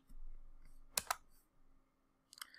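A few quiet keystrokes on a computer keyboard, two quick clicks and then a short cluster, are heard while someone enters a bash command, set against a faint room hum.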